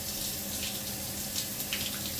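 Water from a hotel apartment shower runs steadily with good pressure, a constant hissing spray heard close and alone without talk.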